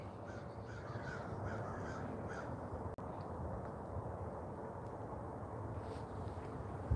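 A crow caws repeatedly against a steady, broad background rumble, its calls fairly faint and distant, continuing throughout with no talking.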